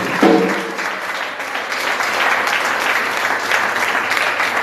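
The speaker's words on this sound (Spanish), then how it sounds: "Alguien se atrevió a dar una aplauso al Señor" A church congregation claps in applause to the Lord, a steady, dense wash of clapping from a sizeable crowd that stays fairly loud and even for several seconds.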